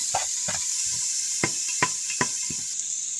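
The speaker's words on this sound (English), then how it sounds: "One large onion. Maybe one large clove of garlic. Frying it up." A steady hiss of onion and garlic sizzling in a pan, punctuated by several sharp clicks and taps of a utensil against the cookware.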